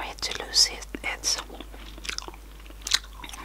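Candy floss flavoured chewing gum chewed close to the microphone in a quiet room, with soft wet smacks and crunchy bites in irregular bursts, and low whispered talk around them.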